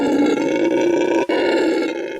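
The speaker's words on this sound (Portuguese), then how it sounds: "O ronco, segundo os cientistas, é uma forma de demarcar o território." Brazilian red howler monkeys roar in a deep, continuous, throaty chorus, loud and sustained with a brief dip midway, filling the forest.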